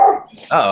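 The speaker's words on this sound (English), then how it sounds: "that was my dog" A dog barks loudly and close by in a short burst, after which someone speaks briefly.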